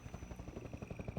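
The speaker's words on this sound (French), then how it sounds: "Oh, avec l'hélicoptère." A helicopter in Half-Life 2: Episode Two, its rotor thudding in a fast, steady rhythm, faint and continuous with no talk over it.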